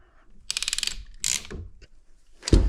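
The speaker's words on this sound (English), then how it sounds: "Slide my ring all the way. Clamp it down." Rapid ratcheting clicks of a crimp tool clamping a cinch ring onto a plumbing pipe fitting for a shower connection, a fast burst followed by a second squeeze and a final loud snap, close and alone.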